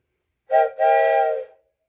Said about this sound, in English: The train whistle.